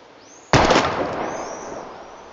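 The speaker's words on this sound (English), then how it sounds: "We're gonna shoot all these bottles without wasting a single bullet." A gunshot aimed at bottles in a junkyard in the video game Life is Strange (2015). One loud, sharp blast follows a quiet lead-in, then a long ringing decay with faint high glassy tones; no voices.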